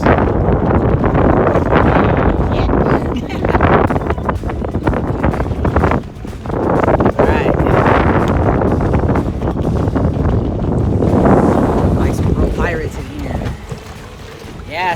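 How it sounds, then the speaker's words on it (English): Strong wind buffets the microphone while a pedal boat fitted with a 30 lb thrust trolling motor cruises over open water, with a steady rushing roar and splashing throughout and occasional voices mixed in. "It's got wind. You're probably picking it up in the video."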